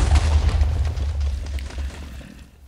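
A deep booming explosion rolls out and fades over a few seconds in the video game Minecraft Feed The Beast, loud and alone.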